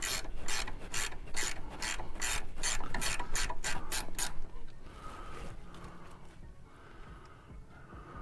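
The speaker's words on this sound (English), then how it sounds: "Now I'm gonna go ahead and loosen my upper ball joint here." A ratchet loosening the upper ball joint on a lowered pickup truck's suspension gives a fast run of loud, close, evenly spaced clicks for about four seconds. A quieter metallic rubbing and shop noise follows.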